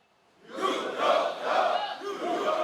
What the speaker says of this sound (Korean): 교육생들의 함성 소리가 훈련장에 퍼집니다